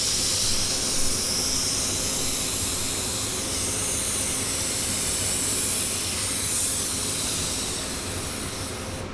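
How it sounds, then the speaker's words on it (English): A steady, loud hiss of Liquid Concepts activator sprayed from a can onto a hydro-dipped football helmet runs unbroken for about nine seconds, broad and airy, fading slightly near the end. "Let's spray it with the Liquid Concept Activator."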